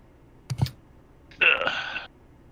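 Computer keyboard keys clack in two quick bursts: a pair of sharp clicks, then a denser rapid flurry of typing that lasts about half a second, close and crisp in a quiet room.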